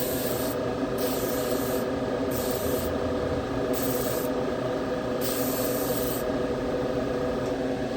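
Spray gun coating a 1956 Chevy Gasser car, a steady continuous hiss of paint spray running throughout, close and fairly loud, with regular bursts of brighter high hiss as passes are made.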